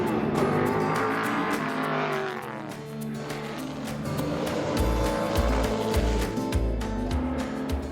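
Race cars at the Chev Can-Am 50th anniversary carnival slowing to form up for a formation lap, a dense loud blend of engine drones shifting pitch as they decelerate, with deep throbbing rumble building near the end.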